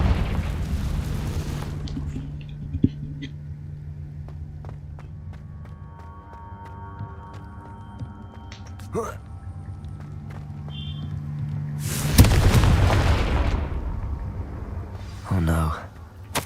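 Confringo spell blasts in the Hogwarts Legacy video game. A sharp burst opens, a louder booming explosion hits midway through a quieter stretch of faint game noise, and a shorter crackling burst follows near the end.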